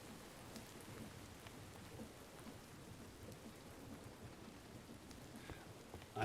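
Steady rainfall with faint rumbling thunder in the modded survival game Minecraft, a soft, even hiss that holds throughout and is heard alone without talk.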